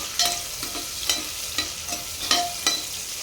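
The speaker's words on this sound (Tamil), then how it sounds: "சேர்த்துட்டு வெங்காயத்தை நல்லா வதக்கி விட்டுக்கலாம்." Two large onions and three green chilies with cumin sauté in oil for vegetable kuruma, a steady soft sizzle broken by regular spatula scrapes and stirs against the pan roughly every half second, close up with no talking.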